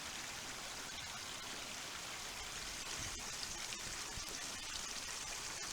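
A mountain stream in the Olympic Mountains runs over rocks in a steady, soft broadband rush and trickle, continuous and fairly quiet throughout with no voices.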